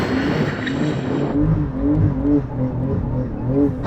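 Porsche 911 tyres spin hard while drifting, a loud continuous roar of engine and tyre noise with a rising and falling pitch, close and dominant throughout.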